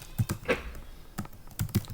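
Quiet keystrokes tap on a computer keyboard while a filename is typed, a handful of irregular clicks in two short bursts, close and soft with no talking.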